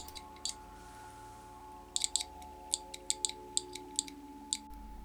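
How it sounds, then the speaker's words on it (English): A small passive speaker or buzzer touched to a battery gives sharp, faint clicks, a few isolated ones, then a quicker cluster and a scattered run of single ticks over a low electrical hum. "To ensure that it's a passive one, just test it with a battery."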